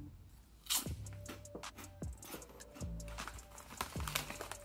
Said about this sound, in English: The Snacklins are actually pretty thick and fluffy, airy, but yet very crunchy.